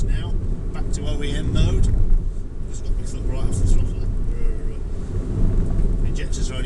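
A first-generation Honda Insight hybrid with an A123 battery pack coasting off the throttle on a commute, a steady low engine and road drone filling the cabin at even level, with someone speaking over it.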